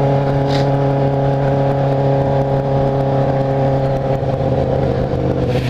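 Blue Ferrari sports car running loud and steady close by, its engine tone holding strong and even throughout with a slight rise toward the end.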